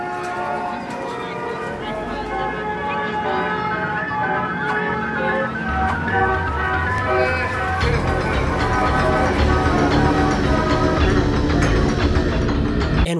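A desolate, eerie carnival-style theme plays in a Burger King video game, a wavering organ-like melody over a droning low backdrop that swells steadily, with no clear talking over it.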